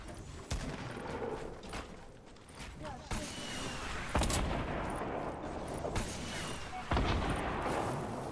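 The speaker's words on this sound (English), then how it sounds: "I'm in the middle of a gun war in Tilted." A gunfight breaks out in Tilted in the video game Fortnite, with sharp shots and bursts of gunfire cracking at irregular intervals over busy background noise and muffled voices.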